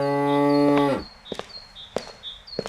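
A single long, loud cow moo close by on a village farm, ending abruptly, followed by faint chirps and light knocks in the quiet background.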